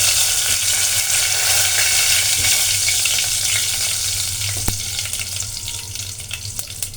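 Mustard seeds, cumin, fennel and curry leaves sizzle loudly in hot oil in a pan, a dense, steady crackling hiss that eases slightly toward the end, with an occasional sharp pop or utensil click.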